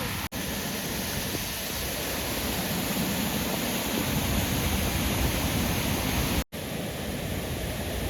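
A rain-swollen stream rushing during heavy rain in the Kottayam hills: a continuous, loud, broadband roar of moving water that holds steady, with two very brief dropouts.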